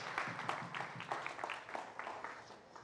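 Audience applause fills a tech conference hall at Mexico Tech Week, a steady wash of many hands clapping, fairly faint and continuous for a few seconds with no speech.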